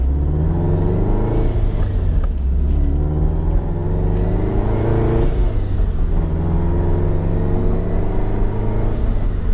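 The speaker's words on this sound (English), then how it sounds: "Car's running great. It's a little louder than normal." A Subaru car engine running a bit louder than usual after exhaust work: a deep, steady rumble with rising and falling revs, close and loud, with no talk over it.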